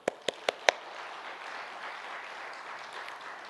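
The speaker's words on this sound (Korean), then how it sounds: "박수 한번 하겠습니다" Church congregation applauding the youth worship team after a dawn service: a few distinct claps at the start, then a soft, steady wash of clapping from a moderate distance at low volume.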